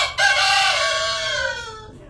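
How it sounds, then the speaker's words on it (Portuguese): A single loud, close rooster crow with a long drawn-out call that fades at the end, heard alone. "Ó o galo, hein?"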